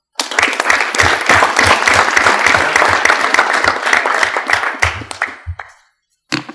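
An audience at a board meeting applauding, a dense burst of clapping that holds steady for about five seconds, then thins out and fades, followed by a brief final flurry.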